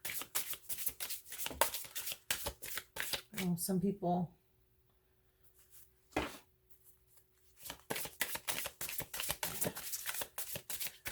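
Rapid riffling bursts of a new oracle card deck being shuffled, repeated several times, close up, with a person talking between and over them.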